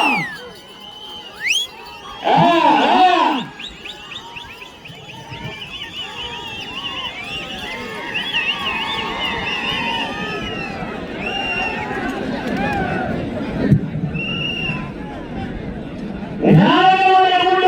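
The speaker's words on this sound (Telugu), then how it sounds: "ఒకసారి అందరూ గట్టిగా చప్పట్లు విజిల్లు స్పందన వేస్తారు" A crowd at a bullock cart race cheers with shrill whistles and shouts in loud bursts at the start and end, with an announcer talking over a busy outdoor din.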